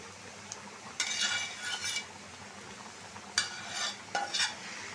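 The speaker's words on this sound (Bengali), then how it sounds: "সবগুলা মাছ দিয়ে নিলাম।" Fried fish pieces being stirred into a boiling curry of pointed gourd and catla fish, with bursts of scraping and sizzling from a spoon against the pan, fairly close and unaccompanied by speech.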